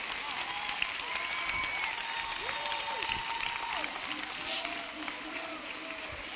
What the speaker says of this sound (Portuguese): Por que vocês não aplaudem de verdade, não palminhas?